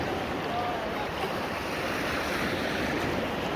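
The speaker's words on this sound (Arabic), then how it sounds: "البحر ديال مراكش مع الامواج" Wave surf at an artificial sea in a Marrakech water park rolls steadily as a constant broadband wash with no distinct breaks, moderately loud and carried along with wind noise.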